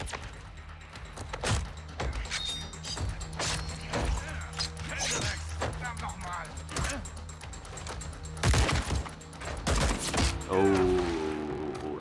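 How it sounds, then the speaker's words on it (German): Gunfire in Call of Duty Modern Warfare 2 on a ship level: sharp shots and bursts crack through a busy battle mix of impacts and crashes, with voices speaking over the action. "Oh, Soap wurde angeschossen"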